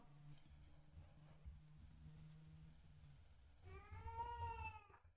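A cat meows loudly near the end, a drawn-out wavering cry with rising and falling pitch, after a stretch of low room hum in a home setting.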